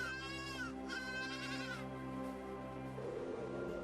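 Sheep bleat in quick succession in the video game AER Memories of Old, several wavering calls close by, with a steady tonal drone of game background music underneath.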